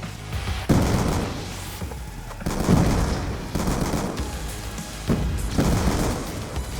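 M1216 shotgun firing in the video game Black Ops 2: a series of heavy booming blasts at irregular intervals, about five or six shots, close and loud over a constant din of gameplay.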